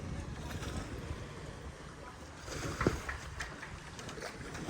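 A car ferry reversing away from its dock gives off a steady low engine rumble with wind and water noise, fairly loud and continuous, briefly swelling near the end.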